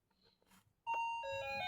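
An electronic doorbell chimes at a house, a bright two-tone ding-dong that rings out clearly and sustains after a quiet stretch of faint rustling.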